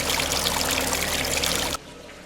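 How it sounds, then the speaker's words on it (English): Water trickles and splashes steadily over an indoor boulder water feature in a dining room, a dense continuous wash that cuts off abruptly near the end, leaving faint room tone. "bringing the look and sound of a mountain creek right into the dining room"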